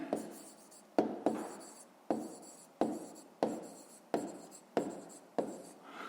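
Writing on a board during a fifth-grade math lesson: about eight brisk, evenly spaced strokes, each a sharp scratch that trails off, close and with no voices.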